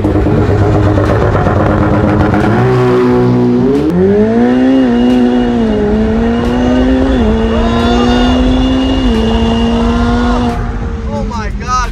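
A Ferrari F8 Tributo and a Ferrari 488 Pista drag racing, loud engines revving and climbing through the gears close by, with a sharp tire squeal near the end.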